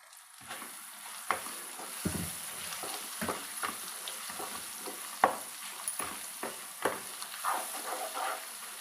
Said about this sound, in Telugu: నూనెలో స్టవ్ అట్నే వెలిగించి ఉండగా ఇట్లా ఫ్రై చేసుకుంటే